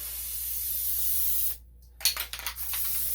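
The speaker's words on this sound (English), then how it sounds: "you give it a really good spray of glue" Spray glue hisses from an aerosol can onto foam in a long, steady, close burst, then after a short pause comes a series of quick, choppy spurts.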